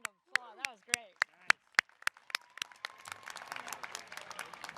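At a School of Engineering ceremony, applause for Connor Collins begins as a few sharp, separate claps under a voice, then thickens into denser, quicker clapping.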